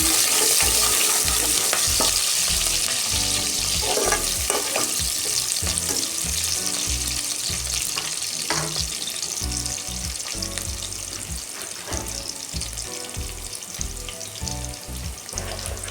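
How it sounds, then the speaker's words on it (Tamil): Curry leaves sautéing in hot oil in a pan for a Tamil home-cooked brinjal stir-fry, giving a steady, close crackling sizzle with occasional stirring scrapes and no talking. "கருவேப்பிலை போட்டுக்கலாம். நல்லா வதக்கி விட்டுக்கணும்."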